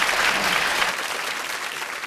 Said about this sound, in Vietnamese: Quý vị cho Thu Hồng một tràng pháo tay.